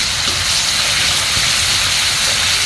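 Ginger garlic paste sizzles hard in hot oil with fried onions while potol is cooked for a posto dish, giving a loud, continuous hiss that stays steady throughout.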